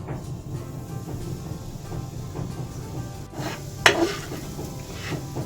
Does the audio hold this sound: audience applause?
no